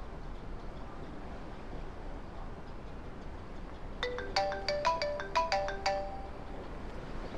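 A mobile phone ringtone chimes in after a stretch of quiet room noise, a quick bright melodic pattern of short tones repeating for about two seconds, clear and fairly close.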